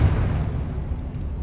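A Confringo fire spell in Hogwarts Legacy erupts in a deep, heavy boom that lands at once and rumbles down over a second and a half.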